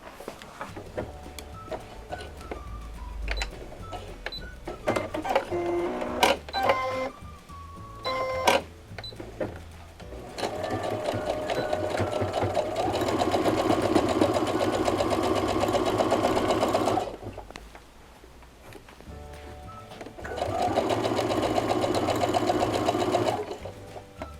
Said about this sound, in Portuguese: Costurei a primeira com a segunda faixinha